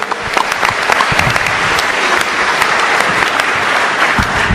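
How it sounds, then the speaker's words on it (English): A room of people gives a round of applause to county sheriffs, with steady, fairly loud clapping that holds throughout without letting up. "Give them a round of applause."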